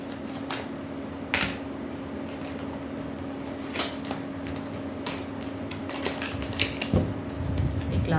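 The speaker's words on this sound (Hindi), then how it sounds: "एक लास्ट शफल लेते हैं" Tarot cards shuffled by hand during a reading, producing irregular papery slaps and riffling bursts over a steady low hum, with a sharper flurry near the end.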